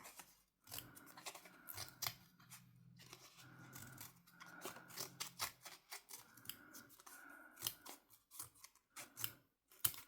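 Scissors snipping paper for a Christmas-themed shaker scrapbook craft, with rapid, crisp close-up cuts in short bursts and brief pauses, quiet and alone.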